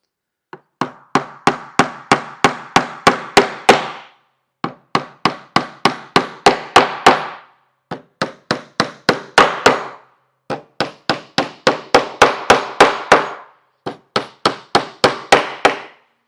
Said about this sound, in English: I'm going to do one last check on this right side here to make sure I'm aligned before I begin hammering in my nails.